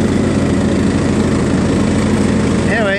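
A John Deere LA105 lawn tractor engine runs loudly and steadily nearby, with a constant chugging drone and no pauses.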